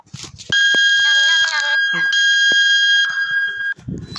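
A loud electronic fire alarm in a Roblox hotel game sounds continuously with a shrill, steady pulsing tone, briefly pausing once, while a voice speaks faintly before and after.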